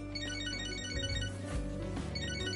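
A phone ringtone from the video game Catherine: Full Body plays alone, a steady tonal electronic melody over a low musical backdrop.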